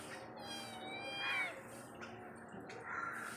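A cat meows several times close by, drawn-out tonal cries with short pauses between them, with faint background noise and no talk.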